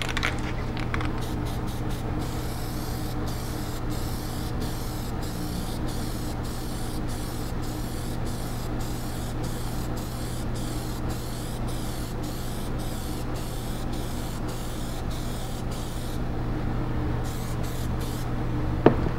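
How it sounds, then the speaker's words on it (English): A spray can of black Plasti Dip hisses in long continuous passes as the first base coat goes on, a steady close spray broken by brief pauses, with no talking. "the first coat that we're going to do is that first coat of black."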